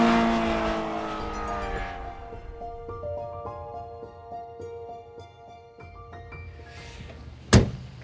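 A Ferrari F355 engine winds up through gears, with rising and falling tones as it accelerates and shifts, followed by a sharp thunk like a door closing near the end.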